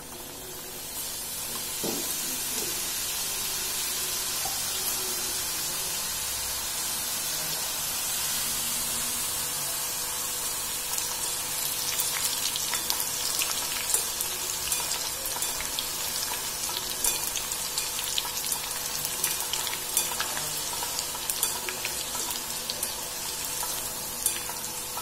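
Wheat flour chips deep frying in hot oil on a low flame, a dense continuous bubbling hiss that grows busier and crackly midway, close and steady, no talking.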